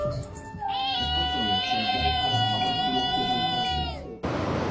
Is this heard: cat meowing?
yes